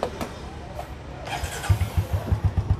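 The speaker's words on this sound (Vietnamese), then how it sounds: "Mình sẽ nổ máy từng xe một nha, cho nó chi tiết chút" A Yamaha Sirius motorcycle engine turns over and catches, settling into a quick, throbbing idle close by after a moment of cranking.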